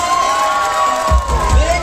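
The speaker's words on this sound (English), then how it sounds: "Come on, parents, give a round of applause." Parents at a school annual day graduation celebration cheer and applaud in a loud, dense crowd roar, with children shouting and whoops rising near the end before it cuts off.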